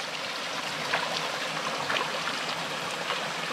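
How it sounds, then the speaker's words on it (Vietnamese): A small forest stream runs steadily over rocks, a continuous bright trickling and babbling close by with small splashes, no voices. "Cái khe suối khá là mát."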